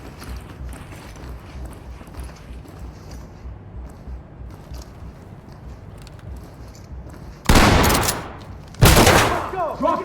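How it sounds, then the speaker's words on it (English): Shotgun blasts breaching a locked door in the tactical shooter game Ready or Not, two loud booming shots a second or so apart after a stretch of low ambient noise. "Blow it with the shotgun."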